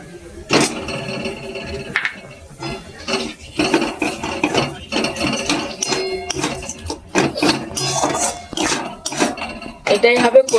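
A spoon stirs and scrapes a chhana kachori filling, sweetened and salted, in a pan. Close, irregular metallic clinks and knocks repeat throughout, with steady bursts of clatter.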